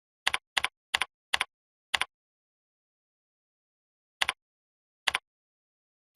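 Short bursts of keystrokes on a computer keyboard while an assignment name is entered, a quick run of five clusters followed by two isolated taps after a pause, crisp and close in an otherwise silent room.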